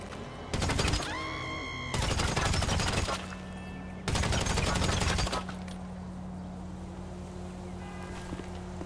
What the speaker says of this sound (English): Stop shooting up my house!